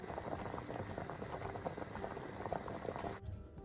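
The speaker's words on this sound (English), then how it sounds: "I'm going to bring it to a boil and cook until they are softened" Baby potatoes boiling in a pan of water, a dense steady bubbling and popping that runs alone and close before cutting off abruptly near the end.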